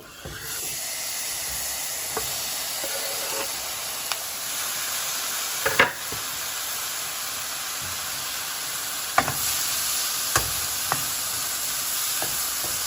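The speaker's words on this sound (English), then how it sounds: "And now I'm gonna toss in my tomatoes." Diced tomatoes sautéing in a hot pan for coconut shrimp curry give a steady bright sizzle and hiss throughout, broken now and then by sharp clicks and scrapes of stirring, with no voices.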